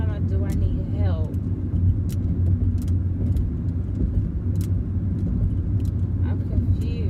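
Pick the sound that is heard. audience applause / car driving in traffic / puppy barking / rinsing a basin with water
car driving in traffic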